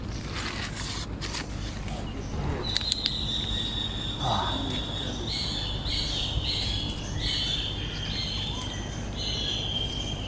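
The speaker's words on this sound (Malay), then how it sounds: "Dekat dalam ni bunyi burung kuat" Birds calling deep in a mangrove forest while snails are gathered, high chirps and a drawn-out whistled call repeating over a dense, steady insect chorus, moderately distant.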